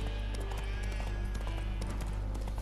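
Roach, Geralt's horse in The Witcher III: Wild Hunt, clip-clops with steady hoofbeats over a loud game soundscape, with a faint whinny mixed in.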